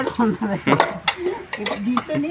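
Dishes, pots and pans being washed in a kitchen, with clinks and scrapes of metal utensils under a steady stream of nearby talk.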